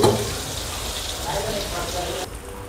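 Butter and half a ladle of oil heat in a pan for masala pav, giving a steady, close sizzling hiss that runs throughout and drops suddenly near the end.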